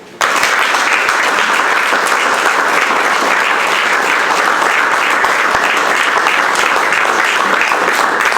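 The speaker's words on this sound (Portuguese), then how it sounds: "eu pediria uma salva de palmas para um conjunto de pessoas" An audience at a club event gives a loud, sustained round of applause, the dense clapping starting abruptly and holding evenly throughout with no talk over it.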